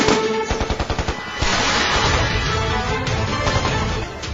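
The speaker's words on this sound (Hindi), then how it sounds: "पाकिस्तानी फायरिंग बहुत जबरदस्त थी।" Rapid machine-gun fire in a high-altitude mountain battle, with close, loud bursts of evenly spaced shots that give way to a dense, continuous roar of gunfire.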